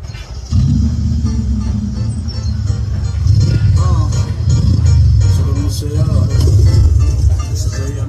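A Raja Radio sound system fitted in a Mahindra Bolero pickup plays loudly, with heavy booming bass and music filling the cab and continuing steadily after a brief quiet start.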